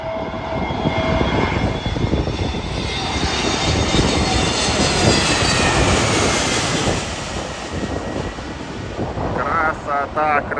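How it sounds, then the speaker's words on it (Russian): A jet airplane flying near an airport roars overhead, its engine noise swelling loud and broad before slowly fading, with a faint voice near the end. "Буквально проходит 3-5 минут и летит следующий самолет."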